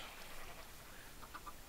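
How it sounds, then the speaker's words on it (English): A few quick, bright clucks of chickens in Minecraft near the end, over a hissy background with no voices. "Got a couple chickens on the go."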